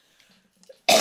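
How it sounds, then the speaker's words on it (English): A single sharp cough from someone recovering from illness bursts out loud and close at the end, after a stretch of near silence with faint breathy noises. "So if you hear me coughing, that is why"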